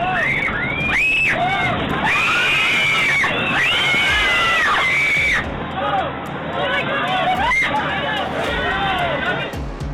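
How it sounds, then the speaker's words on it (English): Children scream in high, piercing bursts inside a school bus that has run into a water-filled ditch, over a jumble of excited voices and water splashing against the windows, loud and close. "The children scream in terror as the water splashes up against the windows"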